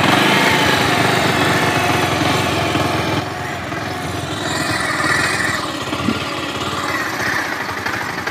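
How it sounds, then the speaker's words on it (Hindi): A Bajaj Pulsar 150 motorcycle engine, freshly rebuilt and not yet tuned, runs close by with a continuous rough, throbbing idle that stays loud and steady throughout. "इंजन की आवाज़ एक बार सुन लीजिए"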